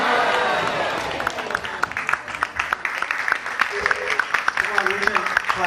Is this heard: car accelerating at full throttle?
no